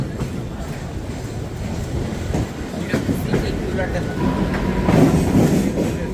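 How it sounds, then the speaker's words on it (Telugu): A Mumbai local commuter train rumbles steadily nearby with a continuous rolling clatter of wheels on rails, voices murmuring faintly beneath the noise. "మనం పోయే లోకల్ ట్రైన్ అయితే వచ్చేసింది"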